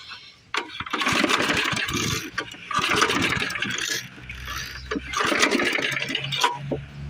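An old push mower being cranked: three pulls of the starter rope, each a rough whirring burst of engine turnover lasting about a second or two, separated by pauses with faint low rumble, engine never catching.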